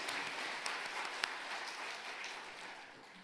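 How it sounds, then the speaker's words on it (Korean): A church congregation at a Sunday worship service on New Year's Day 2023 applauds to give glory to God, a steady wash of many hands clapping that is fairly faint and distant and fades slightly toward the end. "하나님께 영광의 박수 올려드리겠습니다"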